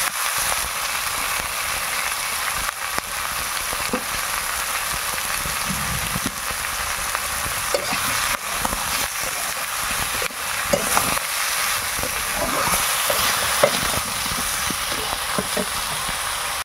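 Ridge gourd and potato pieces frying in a pan while being stirred, a continuous bright sizzle with scattered scraping clicks throughout, fairly close and steady, with no talking.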